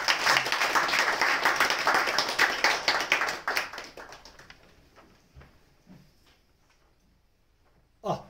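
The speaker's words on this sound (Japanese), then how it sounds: "皆さん、拍手でお迎えください。" A small audience at a Japanese gathering claps to welcome singers, brisk hand-clapping that tapers off after about four seconds into scattered faint taps and near silence, ending with one sharp knock.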